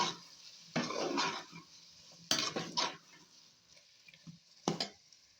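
Chunks of potato, carrot and turnip dropped into a pot of tomato paste, three separate clattering, sizzling bursts close up, each followed by a brief quiet.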